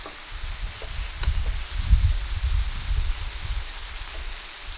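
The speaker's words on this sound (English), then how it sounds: "I'm going to go ahead and put my ham and our bacon." Ham and applewood smoked bacon sizzle on a hot outdoor griddle, a steady close crackling hiss with popping spatters that runs unbroken throughout.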